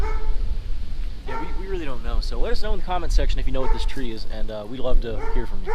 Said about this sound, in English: we do apologize for the dogs screaming for no reason